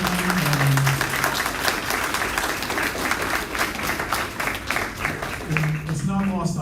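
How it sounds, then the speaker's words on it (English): An audience applauds at a junior honor society induction ceremony, a broad wash of clapping running throughout while a voice speaks over the start and end. "if we could have another round of applause for Abigail"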